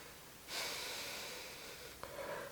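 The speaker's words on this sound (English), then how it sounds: "Let's take 1 more deep breath here." A single deep breath during a soft yoga flow, a long, close breathy inhale starting softly and fading, with a brief catch near the end.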